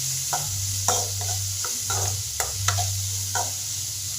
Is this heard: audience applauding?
no